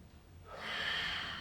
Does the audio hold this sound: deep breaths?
yes